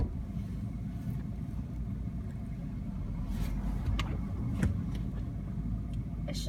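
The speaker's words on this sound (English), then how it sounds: "Wait until that car passes." A car drives past on a road outdoors, a steady low rumble swelling slightly toward the middle and holding under faint background noise, with no talking.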